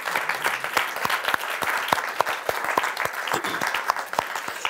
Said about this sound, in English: We should give him a big round of applause.